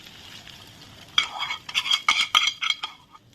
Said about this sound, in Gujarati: અને હવે આપણે વઘાર અંદર નાખવાનો છે